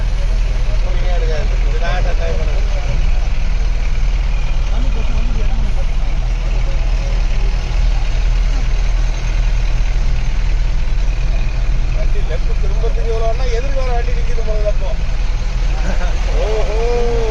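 Vehicles idle and creep in a traffic jam on a hill road near Nilakkal on the Sabarimala route, a steady low engine rumble under continuous nearby talk, with faint horn-like tones now and then.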